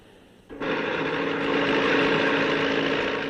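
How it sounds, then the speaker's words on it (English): Bulldozer from a brigade tractor station at work building terraces in 1970s China, its engine starting abruptly and then running loud and steady in a rough, sustained drone. "The bulldozer has come from the brigade tractor station."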